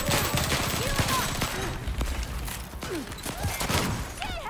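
Video-game gunfire in a chaotic match: dense, rapid bursts of shots crackling steadily throughout, loud and near, with people talking over the shooting.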